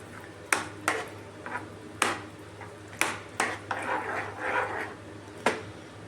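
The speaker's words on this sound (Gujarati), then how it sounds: "ઉપરથી થોડું મીઠું નાખીશું અને મિક્સ કરીશું" A spoon clinks and scrapes against a pot while stirring dal palak khichdi, giving about ten sharp metallic taps at irregular intervals with softer scraping between them, close and fairly quiet.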